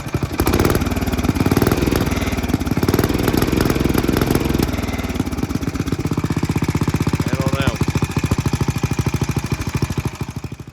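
A 1970s Commuter three-wheeler's small engine runs rich with a suspected carburetor fault, a rapid, loud, uneven putter close by that rumbles heavily at first and then settles into a steadier chug.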